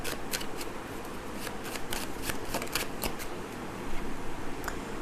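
A deck of tarot cards is shuffled and drawn from, producing a continuous close papery riffle with quick flicking snaps throughout.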